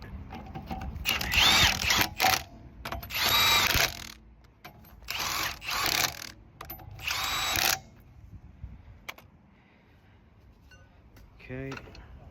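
An impact gun rattles in several loud bursts, each a second or two long, while rear brake pads are replaced on a Peugeot 3008; quieter clicks and brief talk fall between the bursts.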